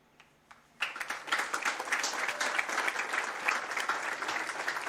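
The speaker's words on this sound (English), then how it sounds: "followed by a moment of applause to celebrate the life of George Visvari" A stadium crowd at a Stockade FC soccer match applauds in honor of a late coach, a dense sustained wash of clapping that starts suddenly after a quiet moment and holds steady, broad and distant.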